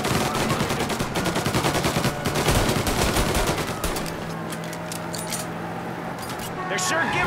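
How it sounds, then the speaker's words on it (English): Rapid gunfire from a shootout in Mafia Definitive Edition, a dense run of loud sharp shots over roughly the first four seconds that then thins into scattered bursts, with voices talking underneath. "So I can shoot."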